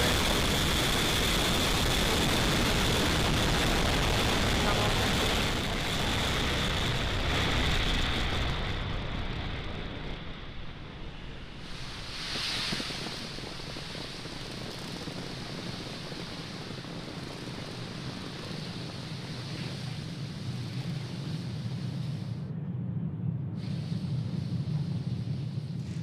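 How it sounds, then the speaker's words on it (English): A Falcon 9 rocket recreated in Kerbal Space Program lifts off from Space Launch Complex 40 at Cape Canaveral, a loud broadband roar that fills the first seconds and then eases into a steady, lower rumble. "Falcon 9 has successfully lifted off from Space Launch Complex 40 at Cape Canaveral Space Force Station"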